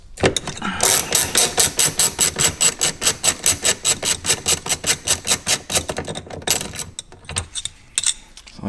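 A T50 Torx driver on a ratchet backs out an upper bolt inside a BMW M3, giving a fast, steady run of close, loud clicks for about six seconds before slowing into a few scattered taps.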